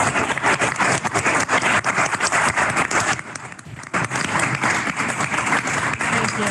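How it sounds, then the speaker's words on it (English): A crowd applauds legislative pages on the Senate floor during a session, with dense, sustained clapping that fills the room, dips briefly midway, then swells again. "Please join me in a round of applause for our incredible legislative pages."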